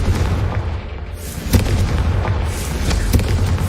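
Confringo spell blasts in Hogwarts Legacy, a steady roaring fiery rumble with two sharper booming bursts about 1.5 seconds apart, loud and close with no talk.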